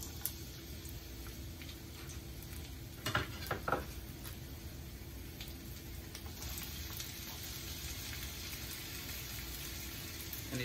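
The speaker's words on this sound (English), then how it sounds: "Now let's throw in these red onions." Red onions sizzle in a hot frying pan, a quiet, steady crackle interrupted by a couple of brief clatters from the pan partway through.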